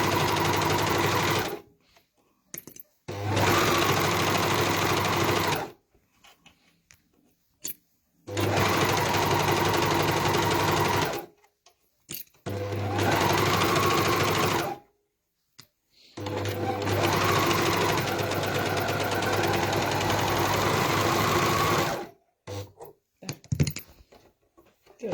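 An overlocker sewing machine stitching fabric runs in several sustained whirring bursts separated by short pauses, close and steady, with little talk.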